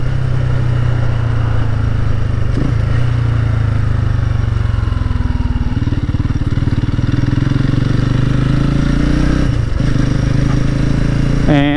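A 2019 Genuine G400C cafe racer motorcycle is being ridden, its engine producing a loud steady drone with small shifts in pitch as it changes speed, close and continuous for the whole stretch.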